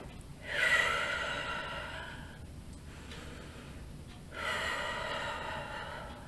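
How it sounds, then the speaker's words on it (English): Two slow, deep breaths, each drawn in through the nose and pushed out through the mouth, sound close and clear and are spaced a few seconds apart in an otherwise quiet setting. "you're inhaling through your nose and exhaling through your mouth"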